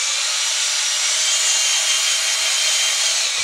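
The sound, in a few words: drill mixing drywall mud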